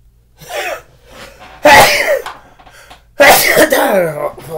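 Several loud, close sneezes from a person, spaced out with short pauses between them, each a sharp burst trailing into a breathy tail.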